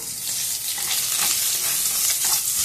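Curry leaves and garlic sizzle steadily in hot oil in a pan, being stirred until the garlic takes on a little colour; a continuous close crackling hiss with no voices.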